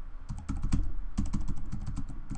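Quick bursts of keystrokes clatter on a computer keyboard during a crossword race, fast and uneven, fairly close but not loud, with brief pauses between runs.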